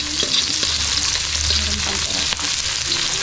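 Onions hit hot oil for a beef short rib ginataan and fry with a loud, continuous sizzle up close, broken by a few quick stirring scrapes.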